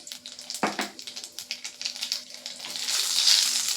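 Dried red chillies and nigella seeds fry in hot mustard oil for a Bengali prawn curry, a steady close sizzle with crackling pops and stirring scrapes that swell louder toward the end.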